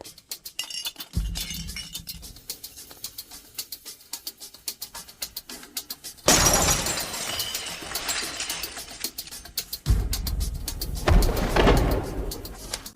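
Glass bottle shattering on a film set, a sudden loud crash and burst of breaking glass with scattered clinks, followed by a second heavy smash a few seconds later, after quieter tinkling at the start.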